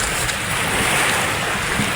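Sea water at high tide along a Philippine shoreline at dawn, a continuous broad wash of surf and lapping water close by, steady and fairly loud with some wind on the microphone.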